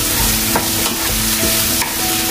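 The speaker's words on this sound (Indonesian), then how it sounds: "Biar si nasinya diaduk rata ya." Rice for Korean fried rice stir-fried with egg in a hot pan: a continuous loud sizzle broken by several sharp scraping strokes of a utensil against the pan.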